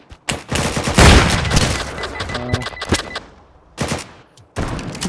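Loud shotgun blasts in a video game, including a double-barrel, going off in bursts with booming reports and mechanical clicks between shots, a few separated by brief quiet gaps.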